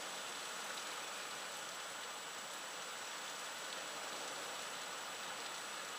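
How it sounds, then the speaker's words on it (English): Heavy rain pours down outside a closed window during a sudden downpour, a dense, steady hiss of drops drumming on surfaces that holds constant throughout with no voices. "It's literally pouring it down"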